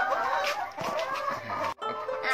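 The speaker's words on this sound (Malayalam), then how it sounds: "അച്ഛൻ നമുക്ക് പറഞ്ഞു തരും കോഴികളുടെ കാര്യങ്ങള്, കോഴികളെ കാണിച്ചു." Chickens cluck in a poultry coop housing about 150 birds, with soft, close, irregular clucks and calls over a busy background.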